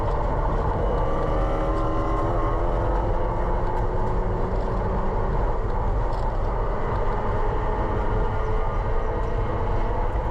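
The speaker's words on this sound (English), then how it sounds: "You can hear the tires, they are all scrubbing." Race car at an SCCA race weekend, tires scrubbing through a bend at speed, heard as a steady, loud, continuous roar of engine and road noise throughout, with no talk.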